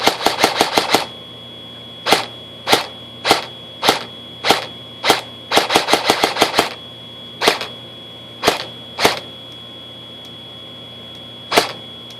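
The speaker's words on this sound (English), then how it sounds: "And then you can just listen to the trigger response." Airsoft DMR rifle fitted with an M140 spring fires sharp single shots, some in quick rapid strings and others spaced out, loud and close with crisp snappy reports.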